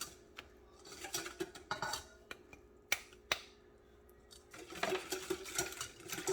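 A spoon stirs a sauce of rice vinegar, brown sugar and cornstarch in a bowl or pan, making faint, scattered clinks and light scraping in quiet, irregular bursts.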